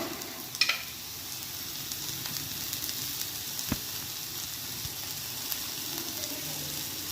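Carrot, onion and green chili sautéing with salt in a pan, a continuous close sizzle with stirring and a few sharp utensil clinks, no voices.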